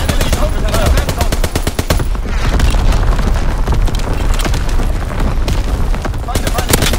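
A Call of Duty WWII match with rapid machine-gun fire and heavy booming explosions from an artillery barrage, loud and dense throughout, under radio-style voice callouts.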